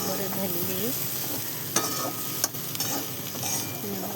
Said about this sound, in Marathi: मस्त अशी गवार परतून घेणार आता.